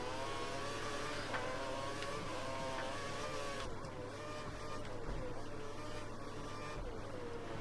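In the F1 2013 video game, a Formula 1 car engine holds a high, sustained whine at full revs during the Spanish Grand Prix, steady and continuous with a faint commentary voice underneath.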